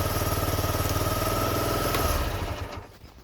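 A Honda XL125S motorcycle engine idles with a steady, throbbing single-cylinder pulse, close and even, then is switched off and winds down into silence over the last second.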